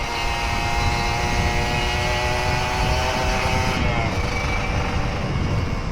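A Kawasaki Ninja RR 150 two-stroke motorcycle, back in use after two years idle, revved on a quiet road, its high buzzing engine note rising and falling as the throttle opens, steady and fairly loud throughout.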